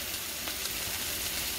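Chicken broth pours into about 12 cups of boiling water for noodles, giving a steady, hissing, bubbling rush throughout, near and without speech.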